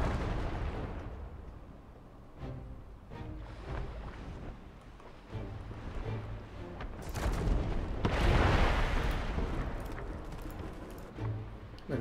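Cannon grapeshot fired from ships during a naval battle in the strategy game Humankind, heard as several scattered, fairly faint booming shots with a louder rumbling burst partway through, over a quiet game background.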